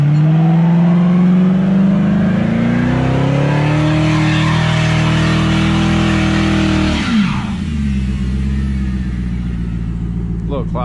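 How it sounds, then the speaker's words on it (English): A car engine runs loud and close, revving up steadily before a sudden drop, then settling into a rougher lower idle as the car pulls up at the Freedom Factory. "You just wanna drive a car up here?"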